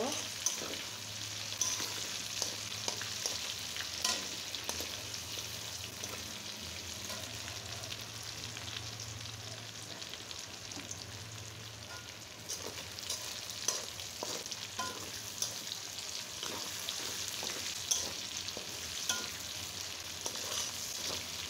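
Tengra fish masala with tomatoes fries steadily in a pan, a continuous close sizzle with frequent scraping stirs and small crackles throughout, no talking.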